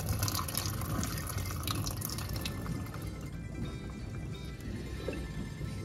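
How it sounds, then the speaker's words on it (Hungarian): Water poured into a pot over potatoes, a steady close splashing and trickling fill that runs continuously for several seconds, fairly quiet and without talking. "nem olyan sok vizet teszünk hozzá, éppen hogy csak ellepi a krumplinkat"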